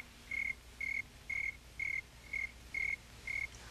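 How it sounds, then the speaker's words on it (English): A single cricket indoors sounds seven evenly spaced, clear chirps, each a short trilled burst, close and fairly loud over a quiet room hum. "Ed, there's a cricket in here. It'll ruin the tape."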